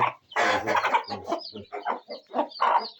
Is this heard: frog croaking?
no